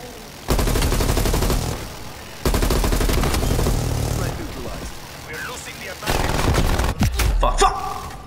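Machine gun fire in the Call of Duty Black Ops Cold War beta, in loud sustained bursts separated by short gaps, ending in a jumble of further shots and game noise.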